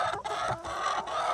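A hen in a backyard chicken coop clucks close by in short, repeated bursts over a low background, with no talking.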